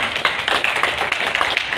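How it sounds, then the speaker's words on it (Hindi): Applause rises from an audience at a felicitation ceremony as guests are welcomed with garlands and bouquets. Dense, steady clapping keeps going throughout, with no talking over it. "एक बार जोरदार तालियां।"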